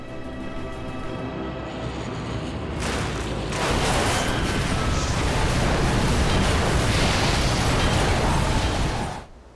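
A firefighting aircraft crashes into burning bush: a loud, sustained roar of crashing and rumbling fills the clip, swelling into a dense explosive blast before cutting off abruptly.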